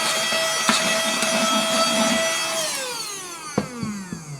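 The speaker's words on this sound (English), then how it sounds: "a little plastic USB charging vacuum cleaner" A small plastic USB-charged vacuum cleaner runs over a workbench littered with sawdust, its steady close-up motor whine and rushing air holding for a few seconds before the pitch drops as it winds down, with a few light knocks near the end.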